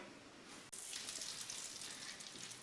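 Butter, about two spoonfuls, hitting a hot frying pan while cooking chicken breasts with leeks: a sudden onset of bright, steady crackling sizzle that continues evenly and close.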